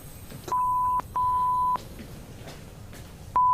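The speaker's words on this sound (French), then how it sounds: "Tout ce que j'ai entendu, c'était bip bip bip bip bip dans tous les sens." Steady electronic beeps sound close by, two longer tones in quick succession and another starting after a short pause, over faint background noise.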